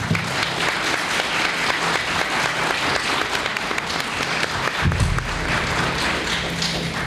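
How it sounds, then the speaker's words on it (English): An audience applauds city council candidates at a 1995 candidates forum, with steady sustained clapping from a crowd filling the room and lasting throughout. "Let's give them a round of applause."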